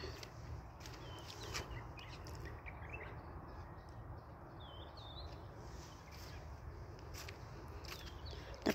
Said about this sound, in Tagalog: puro mga ibon ang madidinig mo dito sa paligid